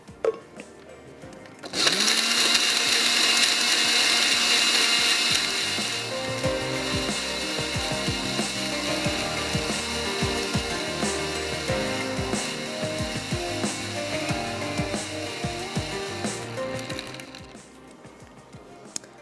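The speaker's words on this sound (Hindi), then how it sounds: "अगेन इसको करते हैं ब्लेंड।" A kitchen blender whirs loudly and continuously through lemon chili chicken sauce, starting abruptly, holding a steady grinding drone for about fifteen seconds, then cutting off, with no talking.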